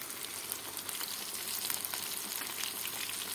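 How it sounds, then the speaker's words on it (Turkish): Eggplant slices fry in a small pan of plenty of oil, giving a steady, dense crackling sizzle at low volume with no voices. "ya bol yağda patlıcanları kızartın"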